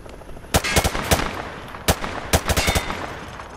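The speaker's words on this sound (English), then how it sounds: "He sprayed bullets all over the damn place." Gunfire at range targets in Call of Duty Modern Warfare 2, sharp close shots fired in quick bursts and clusters with short gaps between them and no talk.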